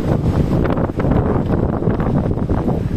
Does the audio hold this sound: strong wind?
yes